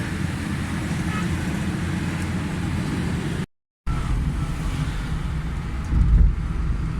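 A car runs down the road after a carburettor service that fixed fuel mixture, jet and vacuum faults, giving a steady close drone of engine and road noise with wind buffeting and a short cut of silence midway.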